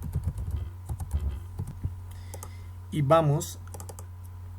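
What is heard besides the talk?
typing on a computer keyboard to create a folder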